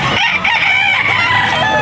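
A rooster crows loudly and close by, one long drawn-out call filling the whole moment.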